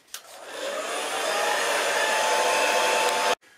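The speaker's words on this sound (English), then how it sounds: "we just have a regular handheld hair dryer here" A regular handheld hair dryer blows on plastic window insulation film to shrink it tight, switching on with a click and running as a steady, loud whirring rush for about three seconds before cutting off abruptly.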